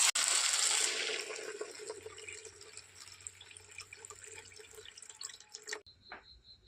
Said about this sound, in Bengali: ঝিঙ্গা আলুটা আমি ভেজে নিয়েছি, এখন জল দিয়ে দেবো।